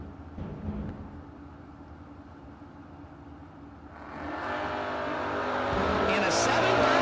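Drag race between a Valiant and a Mustang at a no-box event: engines roar at the line, then rise sharply into a loud launch with building, sustained acceleration.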